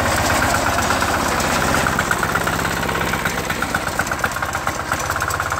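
A diesel David Bradley snow thrower engine runs steadily with its auger turning, a loud close chugging idle with a rapid even knock throughout and no voices.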